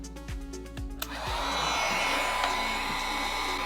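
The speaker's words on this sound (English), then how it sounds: "So now let's go ahead and heat shrink the motor cables" Heat gun warming heat shrink tubing on motor cables during an RC motor and ESC install, first a few soft clicks and thumps, then a steady close blowing whoosh that holds for a couple of seconds.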